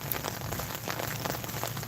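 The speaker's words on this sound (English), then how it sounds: "it's raining" Steady rain falls and patters on surfaces outdoors during a walk, a continuous close hiss with scattered droplet taps and no voices.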